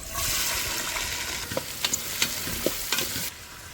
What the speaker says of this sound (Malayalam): ഇതിലോട്ട് നമുക്ക് സവാള അരിഞ്ഞിട്ട് കൊടുക്കാം.